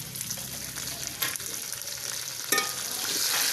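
Ginger garlic paste and a large tomato frying with browned onions in a pot for matar biryani, giving a steady close sizzle with occasional stirring scrapes and clinks of the spoon.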